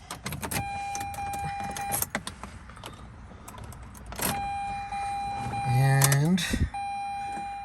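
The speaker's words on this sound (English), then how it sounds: "let's see if the Mazda RX8 will start after sitting a whole night unattended." A Mazda RX8 with a rotary engine starting after sitting overnight: the starter whirs briefly, then the engine catches and settles into a steady idle, with a short spoken word and some interior clicks and beeps.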